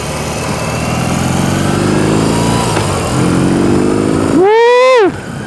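A 2021 BMW R 18 cruiser motorcycle with an 1800 cc engine runs steadily and loud while riding in first gear, its drone rising and falling with throttle, then a short rising whine near the end.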